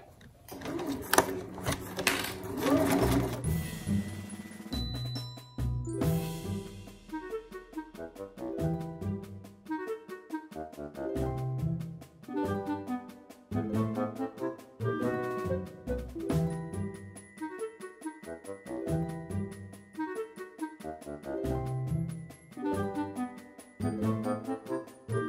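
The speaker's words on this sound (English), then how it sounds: "So now we're ready to start sewing." A sewing machine stitching around the top edge of a fabric basket made from directional fabric, running in steady rhythmic bursts of needle clatter with short pauses, close and continuous, with no talking.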